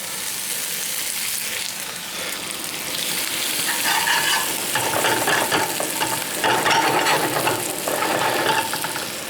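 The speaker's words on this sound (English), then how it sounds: "I'm going to put the shallot. Tablespoon of butter here. Dash of olive oil." A shallot sautés in a skillet with butter and a dash of olive oil, giving a steady close sizzle with stirring scrapes that grows somewhat louder partway through.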